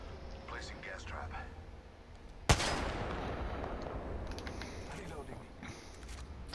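A single sharp gunshot in Apex Legends cracks out close and loud partway through, followed by a lingering rumbling tail, with quiet speech-like murmuring before it.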